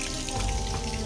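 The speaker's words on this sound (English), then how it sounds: "finally you get little water in the pipe" A thin trickle of water runs from a pipe during a water shortage, producing a brief, steady splashing hiss that sounds close.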